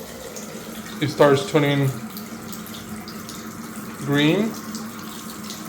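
Water runs from the faucet of a white Velora bathroom vanity with a colour-changing light: a steady, soft hiss continues throughout, beneath someone speaking.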